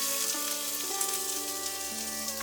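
Mustard seeds, two red chilies and onion sizzle in hot oil in a kadai, a loud, continuous close-up frying crackle with no voices.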